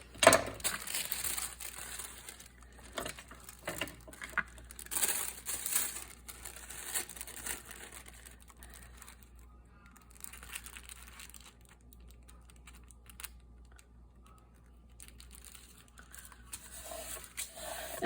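Paper being cut and handled for a steampunk ephemera journal, with crisp snipping, crinkling and rustling in irregular bursts, loudest early then fading to quieter scratches, close up with no talk.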